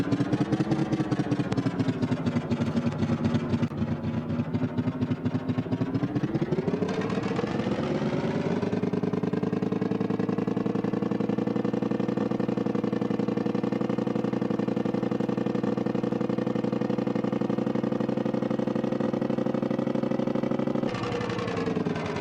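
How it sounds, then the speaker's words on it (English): A giant 10-litre single-cylinder truck engine chugs steadily at idle with a loud, rhythmic thumping pulse, its pitch shifting up midway and then settling into a sustained, even rumble. "a lot of people like to have the ASMR of the engine sounds"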